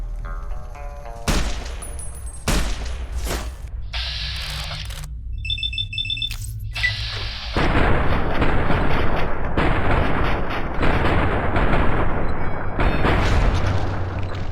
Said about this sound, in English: Let's try that new gun I got.